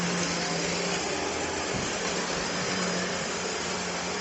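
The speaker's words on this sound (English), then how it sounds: "I might go over it again with a corded machine, see how much more we can pick up." A corded upright vacuum cleaner, heavier than a battery model, runs steadily over a floor with a loud continuous drone and a brief dip in the motor partway through.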